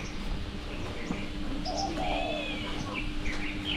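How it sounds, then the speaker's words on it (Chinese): Birds calling around a street in an old riverside town, several short chirps and whistles scattered over a steady background hum, moderately near. "欢快的鸟叫声恰似动人的旋律"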